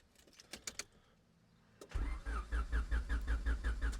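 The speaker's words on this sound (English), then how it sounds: "it just cranks and doesn't start" A Honda Civic with a VTEC-swapped B16 engine cranks without firing. After a few clicks the starter churns in a steady rhythmic whir that goes on without the engine catching, close and fairly loud.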